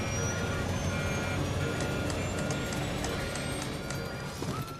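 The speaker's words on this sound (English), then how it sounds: "Alarms were sounding in the cockpit." Cockpit warning alarms sound aboard a plunging aircraft: repeated high-pitched beeps and tones ring out over a loud, continuous roar of engine and rushing air.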